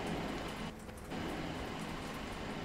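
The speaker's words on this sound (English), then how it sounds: "It's hailing outside." Hail falls in the railway management game Transport Fever 2 as a steady, dense patter like heavy rain, loud and continuous, with a brief dip in the middle.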